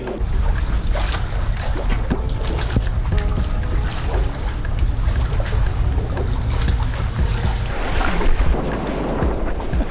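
A boat cruises on open water in a steady wind, giving a continuous loud rumble of wind buffeting and water rushing past the hull throughout.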